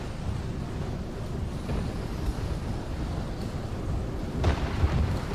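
Gusting wind in the naval combat game From the Depths, a steady low roar with louder swells and a heavier rumbling burst near the end, no voices.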